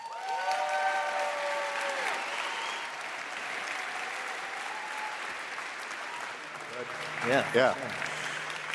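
Audience applause welcoming Mike Maples to the stage, a steady dense clapping crowd that fills the room and slowly thins, with a brief spoken word and a short voice near the end.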